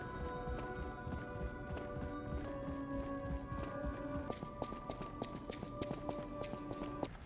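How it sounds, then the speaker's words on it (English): Footsteps on hotel carpets in the video game Lies of P, rhythmic clip-clop-like steps running through, set against sustained musical tones and dense background sound. "there are 3 carpets upstairs in the hotel. 2 of them play the right muffled footstep sound, and 1 of them does not"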